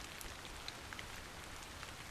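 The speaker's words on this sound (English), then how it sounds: "This must be Earth's rain." Soft, faint rain falling over a ruined city in the video game Stellar Blade, a steady hiss with a few scattered drop ticks and no voices.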